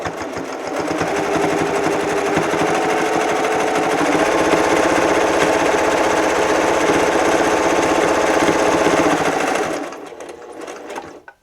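A sewing machine stitches a reusable kitchen cloth in one continuous, fast, even whirring run of about nine seconds, then stops abruptly, leaving a quieter tail.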